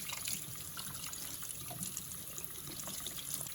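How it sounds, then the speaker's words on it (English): Hot water runs from a tap over dirty filter pieces from a Frigidaire Gallery dishwasher, a steady close splashing trickle that carries on evenly throughout. "So I'm just going to run hot water through this."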